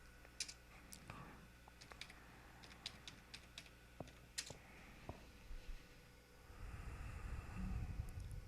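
Keys clatter on a computer keyboard as code is written, with irregular bursts of close, quick taps over a low background hum that grows rougher near the end.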